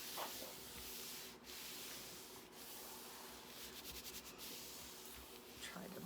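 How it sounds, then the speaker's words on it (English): Hand burnishing paper flat onto the back of a mailer envelope during a craft project, heard as a faint, steady dry rubbing and brushing of palm over paper with a few short scuffs, fairly close and alone. "Try to burnish that down with my hands."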